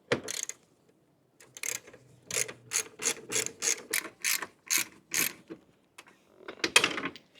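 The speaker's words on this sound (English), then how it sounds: "now you have your ratchets" A ratchet wrench clicks in short bursts while working on a Toyota C-HR during a rebuild, close and crisp, in a rhythmic series of separate ratcheting strokes with brief pauses between them.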